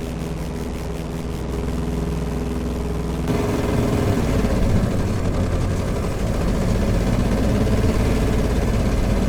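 Piper J-3 Cub engine idling in Microsoft Flight Simulator, a steady low rumbling drone that grows slightly louder and rougher after a few seconds, continuous and unaccompanied by talk.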